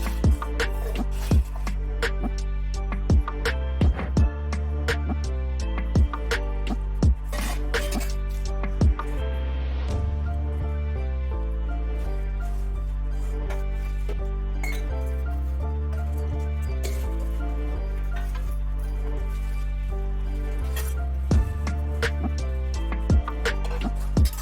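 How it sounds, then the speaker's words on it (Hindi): Dishes being washed quickly by hand, with metal utensils and vessels clinking and clattering in irregular sharp knocks over a steady low background hum, fairly close, no talk. "तो यहाँ पर फटाफट से बर्तन धुल लेते हैं।"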